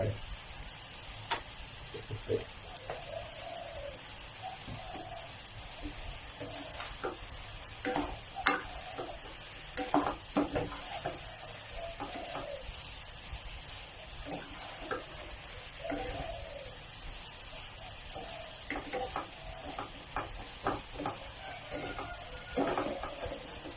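Tofu stir-fries with salted egg and cha-om as oyster sauce goes in, a soft steady sizzle under repeated light scrapes and taps of a spatula against the pan, fairly quiet throughout.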